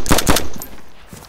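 A quick burst of suppressing gunfire in a tactical shooter, two or three sharp close shots in rapid succession followed by fainter trailing pops.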